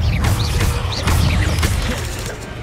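The Revelio revealing spell cast in Hogwarts Legacy, a loud magical burst with clicking, ratcheting mechanical textures and rising chirp-like accents that pulse through the sound before slowly fading.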